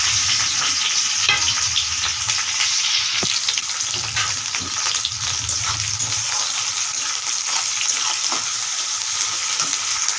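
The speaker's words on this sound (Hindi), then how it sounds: "तेल गरम हो गला तो प्याज के छन डाली दमा" Chopped onions frying in hot oil at the start of a chicken curry, a loud close continuous sizzle with crackles and intermittent stirring scrapes, no voices over it.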